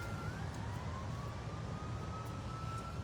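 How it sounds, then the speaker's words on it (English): A distant emergency siren holds a steady, faint wail over heavy low road rumble on a roadside near motels, with no talking. "They got the ambulance coming."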